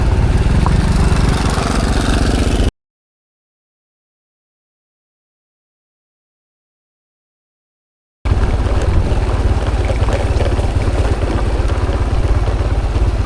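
An outboard motor at the rear of a small boat drones loudly and steadily on a snakehead fishing trip in Kampung Setia, Kamunting, Perak, with wind buffeting the microphone and a long silent gap midway.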